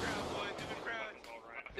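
A musket volley in the Civil War video game War of Rights bursts as dense, rolling gunfire. The shots crackle and boom together in a thick roar, with voices heard among them.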